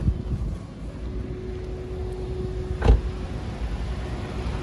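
A 2016 Kia Morning with a 1.25 manual engine idling with the bonnet open: a low, steady rumble with a faint constant hum and one short click partway through.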